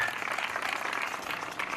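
Congregation clapping hands during an evening church worship service, a dense steady wash of many hands applauding together throughout, close and continuous.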